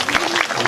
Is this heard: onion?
no